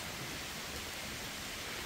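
Steady rain pouring outside, a dense, even hiss of falling drops filling the whole stretch with no voices or breaks.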